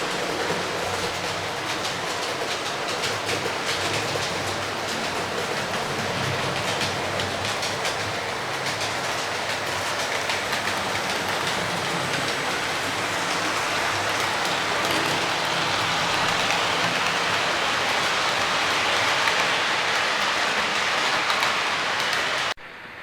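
Three Bachmann Class 47 model diesel locomotives run around a model railway layout, giving a steady, dense rolling rumble and rattle of wheels on track that continues unbroken and fairly loud throughout.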